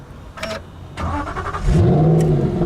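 A Nissan GT-R engine cranks and fires up with the exhaust valve open, settling into a loud, deep idle close by after a couple of brief clicks.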